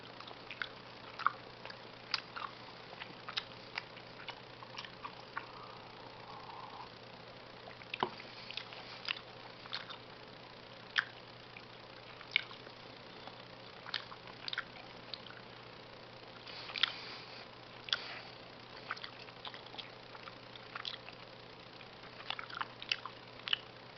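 Polish chewing gum being chewed close up, soft wet smacking and squishing clicks repeating irregularly over a quiet room hum.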